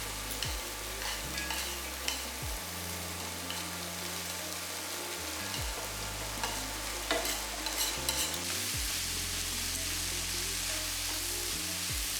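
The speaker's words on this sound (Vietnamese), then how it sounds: "Sau đó mình sẽ cho cà rốt, bắp và nấm tuyết vào xào đều luôn ha." Carrots, corn and snow fungus stir-fried in a pot, with a steady sizzle and scraping stirring that carries on for about twelve seconds, close by and moderately loud, with a low hum running underneath.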